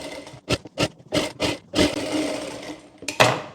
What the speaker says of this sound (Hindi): पार्ट में यहाँ पर सिलाई कर लेंगे हम।